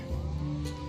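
A mini moto engine revs under light throttle, a close, buzzing drone whose pitch rises and falls slightly over a short burst.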